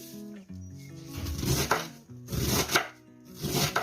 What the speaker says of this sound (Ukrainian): Попередньо приготуємо овочі, капусту кришимо.